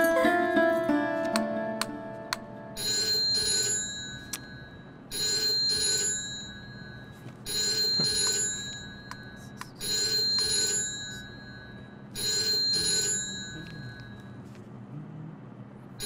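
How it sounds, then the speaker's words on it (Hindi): A telephone bell rings in five regular bursts separated by short pauses, fairly close, with faint room noise between rings. "फोन क्यों नहीं उठा रहा?"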